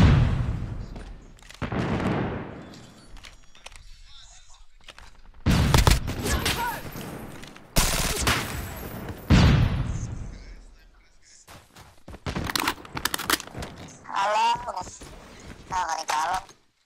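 SKS sniper rifle shots in a shooter video game, loud sharp bangs with echoing tails, several spaced shots and bursts amid other game effects, with voices talking in between.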